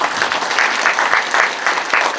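Steady, dense applause from a crowd at a year-end community evening, loud and sustained throughout with no voices standing out.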